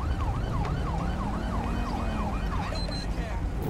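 A police siren on a San Andreas Highway Patrol motorbike in GTA 5 with the LSPDFR mod wails in a fast, repeating up-and-down pattern over dense street traffic rumble, steady and prominent before it cuts off near the end.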